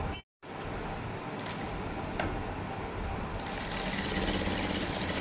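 Sewing machine stitching scallop cut work, a steady close motor hum with rapid needle chatter running continuously after a brief silent gap at the start.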